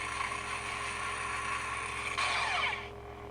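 A budget-friendly toy lightsaber plays its lock-on effect, a steady buzzing electronic hum with a grinding, ratchet-like crackle that swells and flickers, then drops away abruptly near the end, with no talking.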